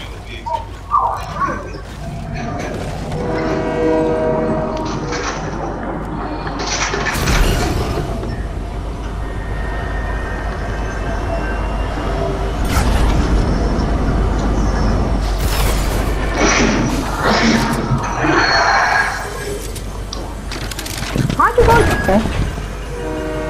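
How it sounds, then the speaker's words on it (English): A train in the video game Fortnite rumbles past, with loud rolling clatter and repeated horn blasts rising and fading over about twenty seconds, close to the player, with brief talk at the start. "That's a train. They brought train back."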